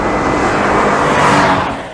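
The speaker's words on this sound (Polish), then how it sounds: "W sportowym trybie ten układ wydechowy jest jeszcze dodatkowo wspomagany przez specjalny system wzmocnienia brzmienia we wnętrzu samochodu" A Toyota GR86 in sport mode drones through its exhaust, a loud, sustained engine note that swells slightly midway and then eases.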